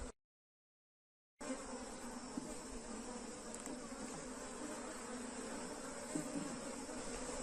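A honeybee swarm buzzes steadily on a hive frame, a dense, continuous close-up hum that starts after a brief moment of silence and holds even throughout.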